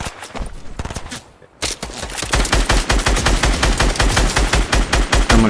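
Gunfire in a Fortnite squads match, a burst of shots, a brief lull, then sustained rapid loud shooting, close and intense.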